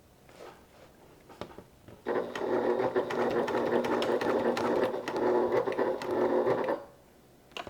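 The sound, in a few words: sewing machine stitching a crossbody bag seam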